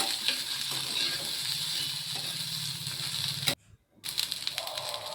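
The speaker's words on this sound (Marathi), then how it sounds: "तर भेंडी मी इथे छान मस्त परतून घेते" Okra sautéing in hot oil, a steady close sizzle with clinks and scrapes of a spoon, briefly cutting out before the frying resumes.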